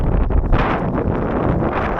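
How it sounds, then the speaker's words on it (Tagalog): Gusty northeast monsoon wind buffets the microphone on the Sulu Sea in a continuous rough rumble, with faint water and boat noise beneath it. "Lumakas na yung hangin."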